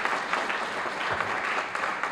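A short burst of audience applause rings out at a lifetime achievement award ceremony, with steady, even clapping from a crowd heard throughout.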